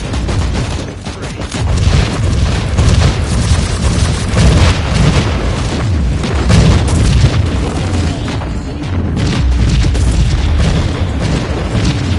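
A grenade detonates in the Warhammer 40000 Inquisitor action game, giving a loud, sustained booming explosion with dense low rumble and crackling debris that runs continuously for about twelve seconds.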